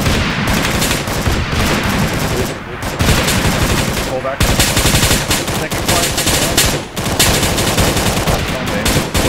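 Loud, sustained automatic gunfire in Arma 3 during a fire-and-movement training exercise, rapid bursts stacking almost without pause, with brief gaps and a voice speaking now and then beneath the shooting.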